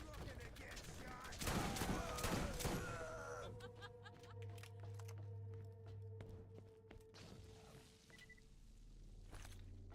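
Guns fire in a Borderlands shooter: a dense, loud burst of shots crackles early, then sporadic thuds and clanks follow over a low rumbling hum, with a voice briefly audible.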